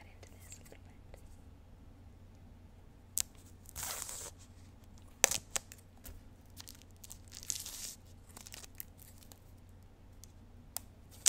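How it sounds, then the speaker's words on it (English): Scissors snip and cut into a material up close, with a few sharp crisp cuts and some crinkling rustle scattered among quiet pauses, while a soft whispering voice is heard. "Use my scissors to cut into this a little bit."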